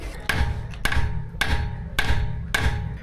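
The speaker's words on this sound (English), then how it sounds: "So now you gotta smack it with the hammer here." A hammer smacks a seized wheel lock nut five times in a steady rhythm, each blow a sharp, close metallic crack about half a second apart over a low background rumble.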